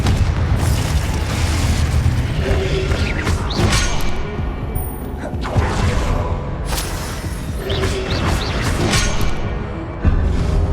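Confringo fire explosion spell cast in Hogwarts Legacy combat: dense, loud, continuous blasts and booms with crackling bursts and clashing impacts layered throughout, no speech.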